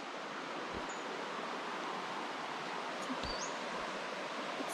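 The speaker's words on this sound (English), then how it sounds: "we came across this pretty creek" Creek water flowing steadily outdoors near a campsite, a constant broad rush with a faint whistle-like chirp over it and no voices.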